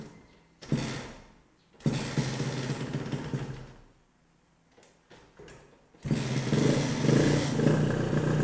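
A Honda Nova Dash 125 motorcycle engine, long unused, sputters to life in bursts, dies down, then catches and settles into a loud, steady idle.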